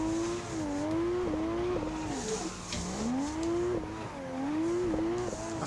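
Race car lapping the Ebisu circuit in Assetto Corsa, a loud engine droning and revving up and down through gear changes, with brief tire squeal as it corners, continuous and close.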